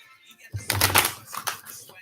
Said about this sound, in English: All right, let me shuffle a little bit.